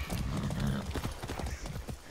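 Horse hooves in Far Cry 6 clip-clop in a quick, steady rhythm close up, with a brief low whinny-like sound near the start.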